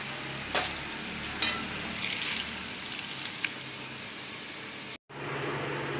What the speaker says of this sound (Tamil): இப்போ கருவேப்பிலை பொரிச்சு எடுத்துக்கலாம்